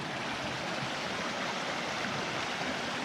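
Steady rushing of a small stream flowing out of Trapper Lake in the Grand Tetons, Wyoming, nearby, a continuous bright babble with no pauses and no voices.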